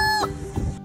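A rooster gives a single short cluck, close and clear, fading after less than a second.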